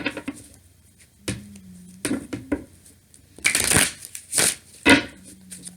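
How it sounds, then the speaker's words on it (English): Tarot cards are shuffled loudly in bursts of riffling and crunching, several separate shuffles with short pauses between, close up and without speech. "It's also much louder to shuffle when I do reversals."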